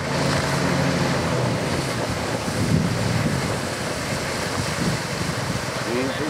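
A motorboat pushes across choppy water, its engine droning under steady wind buffeting and splashing waves, loud and close, with brief voices mixed in.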